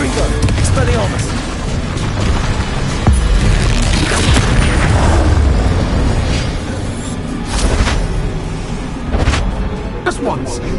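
Spell blasts from Bombarda and Confringo cast in a Hogwarts video game, heavy booming explosions and crashing impacts piling up loudly and continuously under game music and effects.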